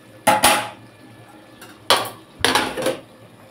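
A lid clatters onto a pan of moringa flower curry with potatoes and lentil dumplings, several sharp metallic clanks and scrapes in quick bursts, close and loud, with quiet pauses between.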